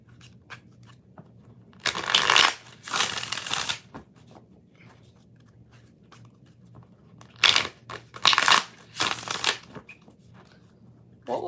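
Tarot cards being riffle-shuffled close up in two bursts, each made of a couple of quick crisp riffles, with quiet pauses between them.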